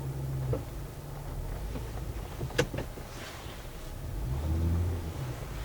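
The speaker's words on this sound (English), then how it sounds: "wheels are spinning again" A car's wheels spin as its engine revs beside Swamp Creek, Colorado, in a low continuous rumble that swells toward the end, with a sharp click partway through and no talk.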